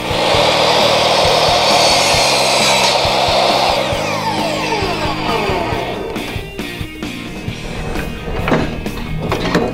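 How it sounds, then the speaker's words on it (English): A power saw cuts a 45-degree angle in wooden base trim: a loud, steady high whine for a few seconds, then the blade winds down amid scattered clicks and clatter. "it's always best and easiest to start cutting your 45, because it's always easier to cut it to length with a 90-degree"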